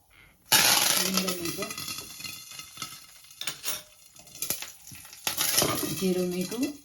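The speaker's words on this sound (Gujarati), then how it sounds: "વઘાર માટે તેલ મૂકી દીધું છે. હવે છે ને રાઈ મૂકવાની." Mustard seeds crackle and pop in hot oil tempering for spinach and loki dhokla, bursts of sharp sizzling spatter that flare, fade and flare again, close up with faint clatter from a utensil.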